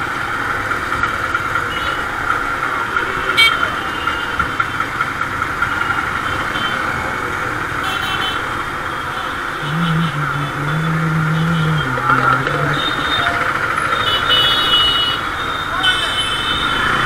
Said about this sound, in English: Right now I'm stuck in a traffic jam.